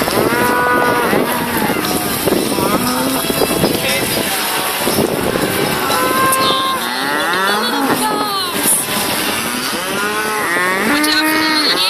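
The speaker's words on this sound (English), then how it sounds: "In fact, we're stuck behind a lot of cows." A herd of cattle on a country road between Griffith and Hay in New South Wales lows repeatedly, several overlapping moos near and far over steady wind and a vehicle's hum.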